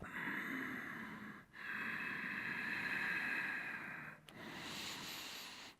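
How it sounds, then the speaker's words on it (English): Deep, full breaths drawn audibly through the nose during a yoga bridge pose, long hissing exhales and inhales close to the mic separated by brief pauses. "Deep, full, audible breaths"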